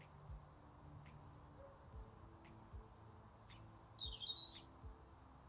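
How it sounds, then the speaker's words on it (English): Birds chirp in the Powerwash Simulator game, brief faint tweets spaced a second or so apart over a quiet low hum, with a slightly louder chirping burst near the end. "Oh, birds."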